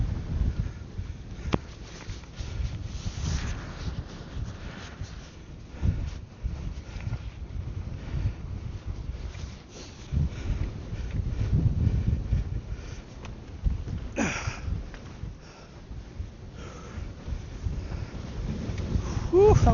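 Strong winter wind on a wet UK wild-camping hillside, buffeting the microphone in gusty low rumbles for the whole stretch, with rustling and some movement noise close by.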